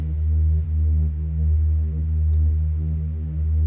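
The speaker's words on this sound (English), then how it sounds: "And I have this deep, menacing Reese bass, or Reese bass" Deep, menacing Reese bass from a DJ intro drones on its own, a thick low sustained tone with a slow rhythmic pulsing swell and no voices.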